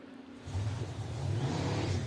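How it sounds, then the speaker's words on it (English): Chevrolet LS3 V8 engine mounted in the back of a Vortex race car leaving the pits at an Estoril 12-hour qualifying session, a low droning engine note that swells in and holds steady, moderately loud without talk. "that is the sound of a Chevrolet LS3 engine"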